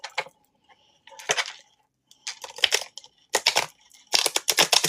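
Tarot cards shuffled by hand in short bursts of riffling and flicking, a few separate close-up rounds with brief pauses between them and quicker shuffles toward the end.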